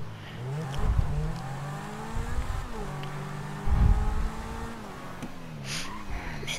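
Car driven in the video game GTA 5, engine note rising and falling through gear changes with brief tire squeals, steady and close throughout.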